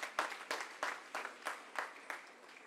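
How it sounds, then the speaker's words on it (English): Faint audience applause after a dance performance at a school foundation day celebration, heard as a string of evenly spaced claps, distant and quiet, with no voices. "Can we hear a huge round of applause for this magnificent dance performance?"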